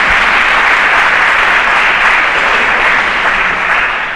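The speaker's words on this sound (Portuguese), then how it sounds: "Uma salva de palmas para essa declaração." A large congregation at an assembly bursts into a sustained round of applause, dense and loud, with many hands clapping evenly before it begins to taper off at the end.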